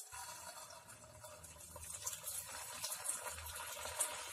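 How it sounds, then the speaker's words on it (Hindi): Potato balls dropped into hot oil and deep frying at medium flame, giving a steady, faint, close bubbling sizzle with light crackles throughout and no talk. "अब मैं फ्लेम को मीडियम पे रख के धीरे से बॉल्स डाल देती हूँ।"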